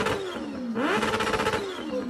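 Kawasaki Ninja H2 motorcycle engine revving up, a steady high-pitched whine that climbs in pitch partway through and holds, loud and close with no talking.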